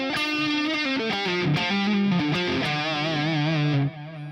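An electric guitar played through an iPad rig with a dreamy yet heavy distorted tone and delay switched on rings out in sustained, bending notes and short runs, with echoes trailing behind before the playing drops away near the end.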